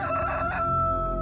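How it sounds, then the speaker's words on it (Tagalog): Roosters crowing from some distance away, a single drawn-out cock-a-doodle-doo call filling the moment over a steady low background hum. "Tilaok na mga manok mula sa hindi kalayuan ang gumising sa akin kinabukasan."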